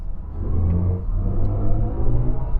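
A 2024 BMW i4 M50 electric car's synthetic drive sound in sport mode drones steadily, swelling slightly as if accelerating, with a low rumbling tone and no voices.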